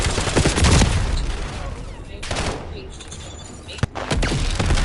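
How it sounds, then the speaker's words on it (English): Enemy sniper fire in a Call of Duty mission crackles in dense bursts of shots with a sharp crack near the end, loud and continuous with brief lulls, speech faintly mixed in. "Enemy sniper shooting."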